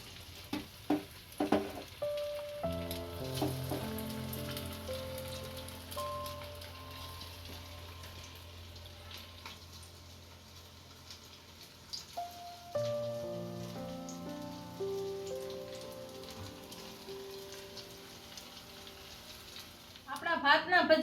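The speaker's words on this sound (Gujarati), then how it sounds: "બધા આ રીતે તળ નાખશું।" Leftover rice bhajiya fry in hot oil, a continuous sizzling crackle that swells whenever fresh batter drops in, with scattered clinks of a spoon and steady tonal hum alongside.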